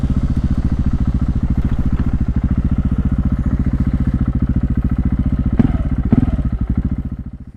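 A 2015 KTM 690 SMC R single-cylinder motorcycle with an Akrapovic exhaust idles close by in a rapid, even thumping pulse, with a couple of sharp throttle blips near the end before the sound fades.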